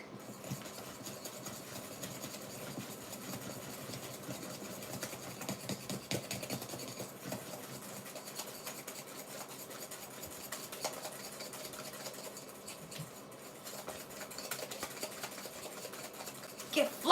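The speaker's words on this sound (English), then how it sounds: "Time to whisk." An electric whisk beats butter and sugar for cinnamon apple bread, a continuous faint buzzing whir that runs steadily throughout with a voice talking softly over it.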